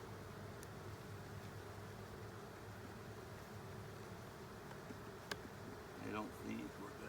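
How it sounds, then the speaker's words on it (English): Honey bees buzz steadily around an open hive during a summer inspection, a dense, continuous drone at moderate level with a few louder individual bees passing close near the end. "Bees are staying really gentle."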